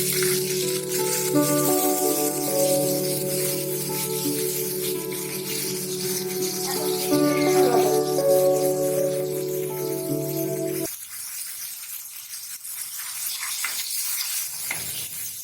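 Bottle gourd frying in a pan hisses and sizzles loudly and steadily over a low hum, then the sizzle cuts sharply quieter as water is poured in, settling into a softer simmering crackle.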